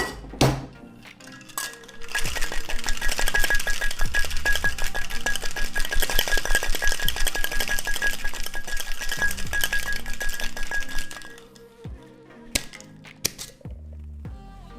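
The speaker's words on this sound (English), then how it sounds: "we're going to shake the ingredients for about 10 to 12 seconds" Cocktail ingredients for a Surfer on Acid with Jägermeister are shaken hard with ice in a shaker, a loud, fast rattling run of about ten seconds with a few single knocks before and after.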